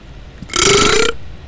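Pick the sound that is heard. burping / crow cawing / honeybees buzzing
burping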